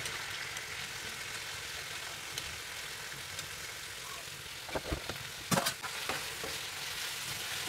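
Chicken liver and gizzard sauté with a soft, continuous sizzle. A cluster of sharper stirring clatters comes near the end.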